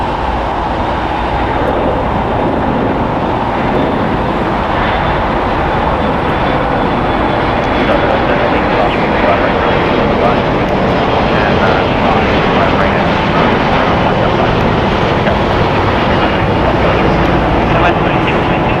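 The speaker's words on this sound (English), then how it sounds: "Going to be departing to Las Vegas. Boeing 737-800, 25 years old, United Airlines flight 1006." A 25-year-old United Airlines Boeing 737-800 jet departs LAX for Las Vegas, its engines giving a loud, steady broadband roar that holds for the whole stretch, with faint speech partly buried underneath.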